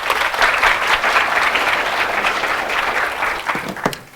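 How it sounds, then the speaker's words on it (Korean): An audience applauds at the start of a conference talk on web development: dense, steady clapping from a sizable crowd fills the room for about four seconds, then thins and tapers off at the end. "큰 박수 부탁드립니다."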